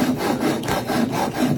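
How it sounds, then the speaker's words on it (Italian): An old hand saw cuts through wood in a traditional carpenter's workshop, giving steady back-and-forth rasping strokes, about four close, loud pulls with a regular rhythm and no voices. "È una sega di una volta che si usava per tagliare tutto a mano"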